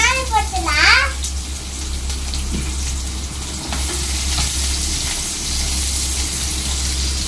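Onions frying in oil in a home kitchen, a steady close sizzle and crackle running throughout, with a voice and an adult's speech over it at the start.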